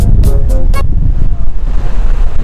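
Strong wind buffets the microphone while cycling along the seafront Corniche in Doha, Qatar, a loud, low, gusty rumble that carries on throughout, with a few short sharp bursts near the start.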